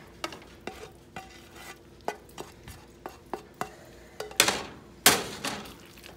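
Seasoned hamburger meat being stirred into chili cabbage in a pan, a run of regular spoon clacks and scrapes against the pan over a faint sizzle, louder wet scrapes near the end, with no talking.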